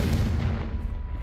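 A Confringo blasting spell exploding in Hogwarts Legacy, a heavy booming burst with a rumbling low-end tail that fades over about a second.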